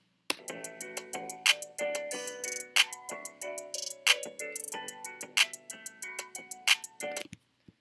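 A hip-hop beat plays back with a bright plucked melody over crisp rapid hi-hat ticks and regular punchy hits. It runs steadily at moderate volume with no talking, then cuts off abruptly at the end.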